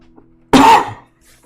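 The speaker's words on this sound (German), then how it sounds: "Es tut mir leid wegen dem Husten." A single loud cough bursts out close up and fades within about half a second, standing alone against quiet background during a Kathy Rain adventure game playthrough.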